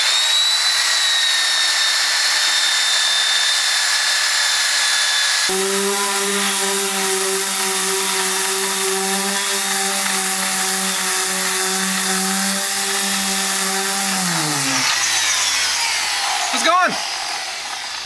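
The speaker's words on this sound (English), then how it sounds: "Gotta be one of life's less rewarding projects, sanding fiberglass, but it's coming out okay." A power sander on fiberglass of a Boler trailer whines loudly and continuously, its pitch steady, then winding down near the end before a brief rattle.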